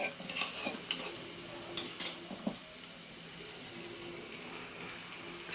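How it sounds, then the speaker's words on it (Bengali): Water is poured into a spice mix in a cooking pan. There are a few quick splashes and light clinks at the start, then a quieter low sizzle, all fairly faint and close. "খানিকটা জল আমি দিয়ে দিলাম"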